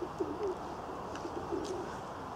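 Pigeons coo softly in a loft with a pigeon chick present, several low rolling coos repeating through a faint, quiet background.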